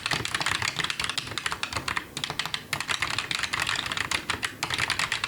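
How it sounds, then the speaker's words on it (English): Steady, fast typing on a Roccat Vulcan Max II mechanical keyboard with linear red switches, soft muted clacks in a continuous rhythm, close up with no talking. "When I'm pressing on the buttons, it's very quiet."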